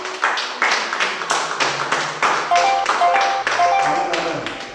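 A church congregation claps in rhythmic bursts, with a few bright ringing tones and background voices mixed in.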